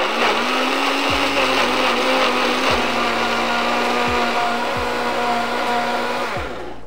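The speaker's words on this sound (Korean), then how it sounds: "재료를 갈아 보겠습니다" A kitchen blender grinds sauce ingredients, including a spoonful of honey and two spoons of mayonnaise, for a black sesame lotus root dressing: a loud, close, steady whir with a few brief dips in pitch.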